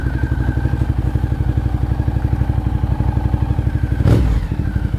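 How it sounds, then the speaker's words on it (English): A 2012 Ducati Diavel engine with Termignoni exhaust thumps with a loud, rapid, throaty exhaust beat, steady and close, with a brief clunk partway through. "let's take it for a quick spin, and hopefully you can hear the engine"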